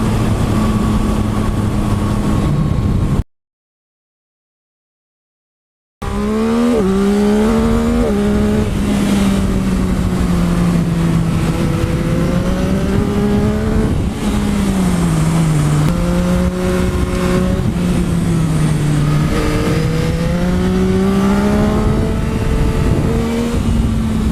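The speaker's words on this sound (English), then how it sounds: "there's not too many bikes that can power wheelie in third gear" A 2021 Yamaha MT-09 SP motorcycle engine revs hard and accelerates continuously, pitch sweeping up through the gears, loud and close after a brief gap of silence near the start.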